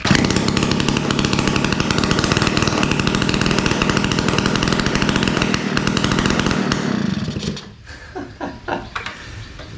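Vintage mini dirt bike engine revving loud and raw with the muffler removed, a harsh continuous buzz that drops off near the end into a few sputtering blips.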